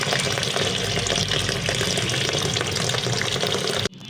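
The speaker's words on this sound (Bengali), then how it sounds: "তো মাছটা ভালোভাবে ধুয়ে নিতেছি আমি।" Water runs steadily from a tap while fish are washed for cooking, a loud continuous splashing gush that stops abruptly near the end.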